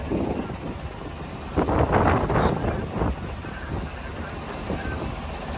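Strong wind roars over the sea around a small fishing boat in rough waves, gusting hard into the microphone with a loud rush in the middle before easing to a steady blow.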